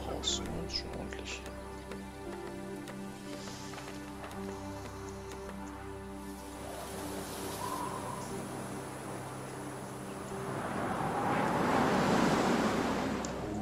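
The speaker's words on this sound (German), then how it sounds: "Windig hier heute." Wind blowing in the strategy video game Diplomacy is not an Option, a soft hiss under steady tonal game music that swells into a louder, rushing gust over the last few seconds.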